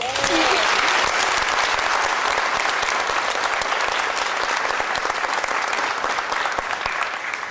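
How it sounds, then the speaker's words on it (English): An audience at a graduation ceremony in a theater gives the graduating students a loud, dense, sustained round of applause, continuous clapping from many people filling the whole stretch. "Please give them your round of applause."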